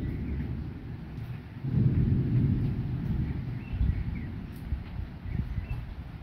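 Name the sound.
thunder from a violent thunderstorm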